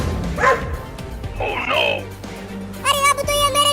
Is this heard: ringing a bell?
no